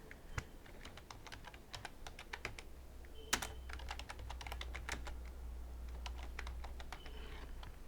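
Typing on a computer keyboard while writing Christmas coloring page text, with quick clustered key clicks in bursts, close and clear, over a low steady hum and no talking.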